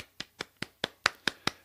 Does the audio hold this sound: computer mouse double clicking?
no